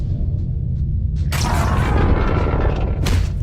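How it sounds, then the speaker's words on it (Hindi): In a cartoon, a low rumbling background suddenly erupts into a loud, broad explosion about a second in, followed by roaring debris-like noise and another sharp burst. "धमाके के शोर से तीनों जाग गए हैं।"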